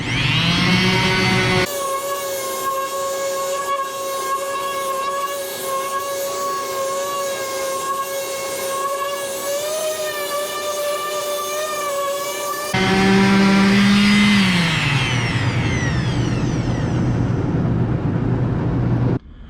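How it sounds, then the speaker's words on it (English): A power sander's loud, steady motor whine runs on, then its pitch sweeps downward as the tool winds down. "We'll let it come to a complete stop before we set it down. So turn it on."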